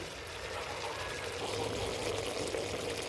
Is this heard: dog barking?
no